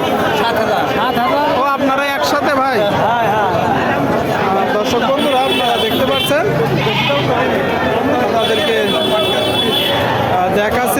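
Goats bleat repeatedly at a busy livestock market in Bangladesh after Eid, their calls overlapping with constant crowd chatter and bargaining voices close by.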